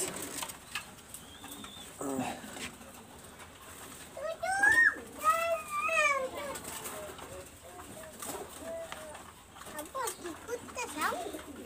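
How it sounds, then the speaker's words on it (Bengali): A Pakistani highflyer pigeon gives a few close coos and warbling calls midway, between stretches of quiet handling noise, with a person speaking faintly at times. "তাহলে আমি কবুতরটা ধরে দেখাই দিচ্ছি দেখেন ব্যাস"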